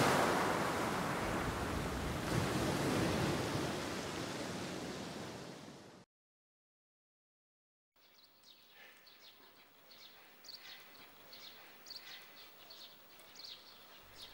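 Surf washing onto the Hisui (jade) Coast beach on the Sea of Japan, a steady broad rush at close range that breaks off into silence and then returns more faintly, with birds chirping over it.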